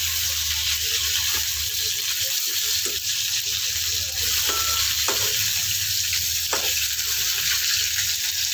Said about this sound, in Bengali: দেখো ওই দিকটা হালকা হালকা ভাজা হয়ে গেছে।